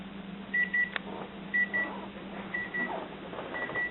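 A kitchen oven timer set at 425 for baking biscuits beeps in short, faint pairs of high electronic tones, repeating about once a second over a quiet room hum.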